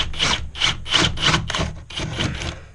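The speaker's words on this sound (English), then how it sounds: "Okay, I'm gonna drill right here." Drill bit boring a half-inch hole up through a wooden ceiling, heard as a series of close, gritty grinding bursts of about half a second each with short pauses between them.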